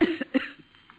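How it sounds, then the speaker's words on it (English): A patient coughs during a chest examination, two or three short, sharp, close coughs in quick succession, then silence. "Just cough, please."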